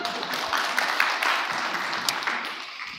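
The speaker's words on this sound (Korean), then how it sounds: "우리 목사님 한번 박수하겠습니다" A church congregation at an Easter Sunday service claps together, a continuous rustling applause that stays even and moderately loud for about three seconds.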